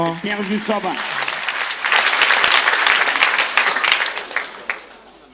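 An audience claps in applause to acclaim the Lord at a church centenary handover ceremony, with sustained broadband clapping that swells after a brief opening voice and fades toward the end.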